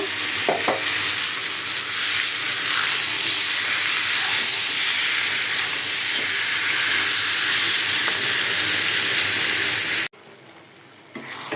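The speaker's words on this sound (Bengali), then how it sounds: "এখন শুধু কড়াইতে ঢেলে দিব।" Spice-coated chicken hits a hot wok and sizzles loudly and steadily with hissing steam and stirring scrapes, then cuts abruptly to a much quieter background near the end, with no talking.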